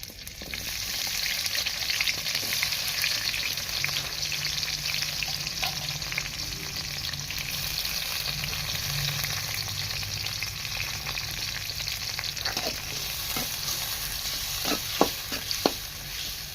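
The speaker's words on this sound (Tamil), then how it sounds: "இப்போ வெங்காயம் போட்டு வதங்க போகிறேங்க." Onions sizzle steadily in hot oil with mustard seeds and fenugreek for a mutton curry, a close, even frying hiss broken by a few sharp stirring taps near the end.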